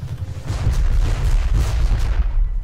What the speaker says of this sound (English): Oh, rocket!